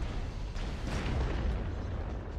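A missile explosion in MechWarrior Online, with a Banshee mech under fire: a loud, dense, sustained rumbling blast with heavy low-end boom filling the whole short moment, no voices.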